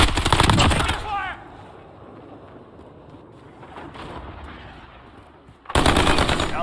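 Loud automatic gunfire bursts in a Call of Duty Modern Warfare multiplayer match open and close the stretch, with quieter game ambience and distant shots in between.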